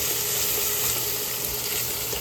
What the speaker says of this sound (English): this is going to saute for about 6 minutes